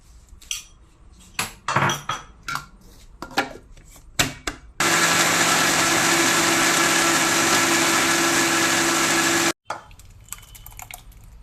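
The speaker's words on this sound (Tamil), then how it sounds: "இப்போதான் தயிர் சேர்க்க போகிறேன் கட்டி இல்லாம அடிச்சுக்கலாம்" Electric blender beating curd smooth for banana stem pachadi, a loud steady whirring run of about five seconds, framed by clinks and knocks of utensils and containers before and after.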